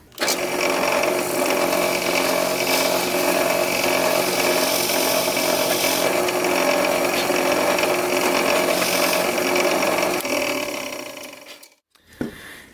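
Drilling into wood with a 1/2 inch Forstner bit: a steady, loud mechanical whir runs continuously for about ten seconds, then spins down and stops near the end.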